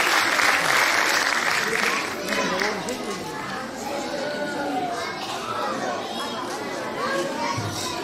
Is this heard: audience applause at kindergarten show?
yes